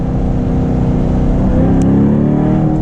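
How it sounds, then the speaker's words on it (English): Corvette C7 fitted with an aftermarket exhaust, heard from inside the cabin as a loud, steady engine drone that swells slightly as the revs climb, with no talking. "this has an aftermarket exhaust, so it sounds pretty amazing"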